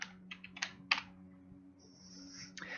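A computer keyboard clatters through a short burst of keystrokes as a search is typed, with quick close clicks in small clusters, a pause, and then a final couple of taps.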